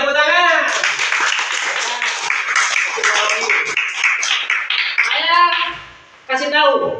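Students clap their hands in a classroom, a burst of clapping mixed with lively children's voices, briefly dropping off before voices resume near the end.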